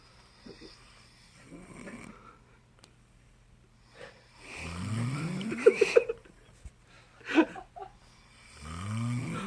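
Two men snore in alternation, deep rasping snorts rising in pitch, each roughly a few seconds long, close and fairly loud over a quiet room, with brief sharp snorts in between.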